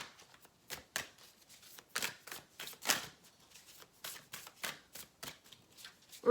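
Tarot oracle cards are shuffled in a run of crisp, papery riffles and flutters that come in uneven bursts close to the listener, with no voices.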